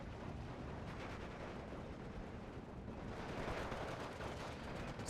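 Mortar and artillery fire in the WWII strategy game Steel Division 2, a 50 mm mortar firing amid a dense, continuous wash of distant battlefield explosions and gunfire, rumbling steadily for several seconds with no voices.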